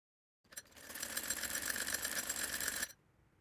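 A sewing machine runs steadily for about two and a half seconds, stitching a folded fabric edge on a child's fotua. The whirring is fairly faint and heard alone, with no talk.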